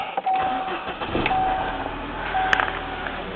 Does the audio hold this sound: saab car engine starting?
yes